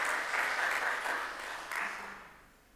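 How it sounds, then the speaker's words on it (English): Applause from a crowd, a steady wash of clapping that swells briefly and then fades out toward the end. "claps will be, the applause will be there"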